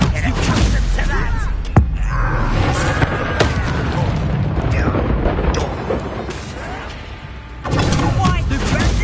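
Booming explosions from the Confringo spell erupt in Hogwarts Legacy combat, with heavy thuds and blasts piled over a dense, loud mix of battle effects and voices.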